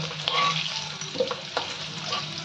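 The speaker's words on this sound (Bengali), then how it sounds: "ভাজা ভাজা মতো হয়েছে, এবার আমি তাহলে আলুগুলো তুলে নিই" New potatoes coated with turmeric frying in hot oil, a close, steady crackling sizzle with soft stirring scrapes and clinks throughout.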